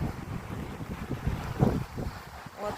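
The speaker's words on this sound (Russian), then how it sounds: "Ветер дует." Stormy wind blows along the Azov Sea shore, a continuous close roar of gusts against the microphone with surf churning underneath.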